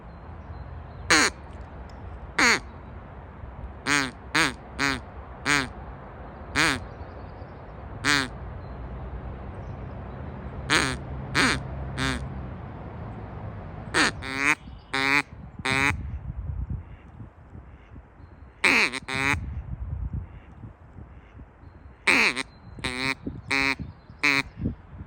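Ducks quack outdoors at a pond, loud sharp repeated quacks in irregular bursts over nearly half a minute, with faint voices in the background.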